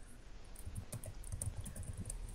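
Fast computer keyboard typing runs steadily throughout, a patter of light key clicks at close range with no voices.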